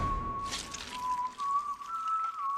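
A single steady whistled tone, fairly quiet, holds and wavers slightly in pitch over a couple of seconds, alone with faint background noise.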